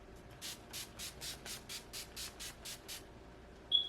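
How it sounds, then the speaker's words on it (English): A pump bottle of drugstore setting spray mists a face during a makeup routine. Eleven quick, soft, evenly spaced spritzes hiss close to the microphone in a quiet room, and a brief squeak follows at the end. "And then we are going to spray our face."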